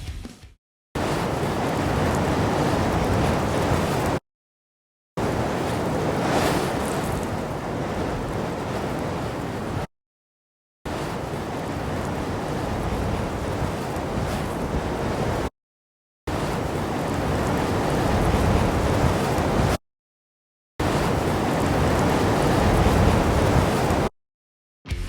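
Steady rushing wind from a video game's Wwise wind ambience in several long gusts, each cutting off abruptly into brief silence before the next begins, full and close with no voices.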